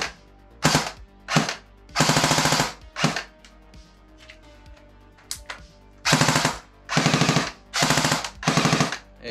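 A Jing Gong G36 airsoft rifle with a suppressor fires several rapid full-auto bursts, muffled mechanical rattling in two groups separated by a quiet pause, close and with no talking.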